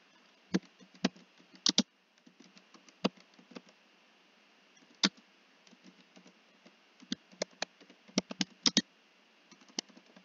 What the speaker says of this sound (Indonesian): di sini kita bisa mengetik keyword dari jurnal yang ingin kita cari.